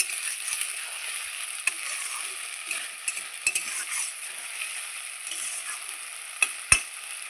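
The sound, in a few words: stirring spiced rice frying in a pan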